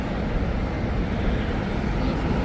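Airplanes at an airport heard from an observation deck: a steady, broad jet-engine roar fills the whole stretch without breaks, with no voices.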